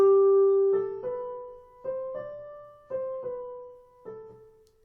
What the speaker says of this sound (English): Quite often dotted rhythms are followed by a shorter rhythm, so shorter sound.